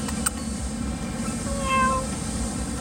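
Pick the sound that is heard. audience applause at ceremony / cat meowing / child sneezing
cat meowing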